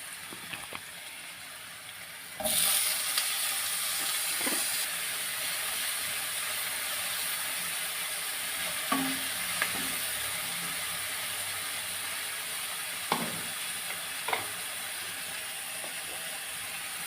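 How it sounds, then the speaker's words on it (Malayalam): Tomatoes drop into a hot frying pan for fish curry, and a steady bright sizzle starts a couple of seconds in, then continues with occasional faint clinks and taps. "അപ്പോൾ ഇനി ഇതിലേക്ക് ടൊമാറ്റോ ഇട്ട് കൊടുക്കണം."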